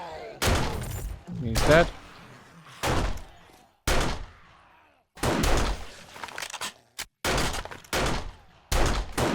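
Loud, close gunshots from a first-person weapon in 7 Days To Die, fired in separate blasts with short gaps, one clipped shot among them, and a brief spoken remark between shots.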